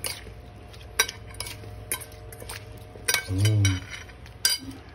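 Kinilaw with cucumber being mixed in a bowl, with light scraping and clinking of a utensil against the bowl at intervals and a brief louder stir near the middle, under quiet background hum.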